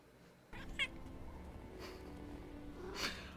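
A Loth-cat from the Star Wars series Ahsoka gives a few short, close, animated meows over a quiet background, with a longer cry near the end.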